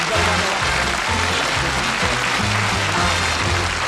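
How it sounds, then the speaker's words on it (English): Studio audience applause on a darts-themed TV game show, dense sustained clapping filling the room at full volume, with a voice speaking faintly beneath it. "Ladies and gentlemen, a nice warm round of applause for Jocky Wilson."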